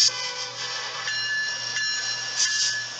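Union Pacific diesel locomotive running on Norfolk Southern rails, a steady close rumble with a low drone and bright tonal whine held evenly throughout, no voices.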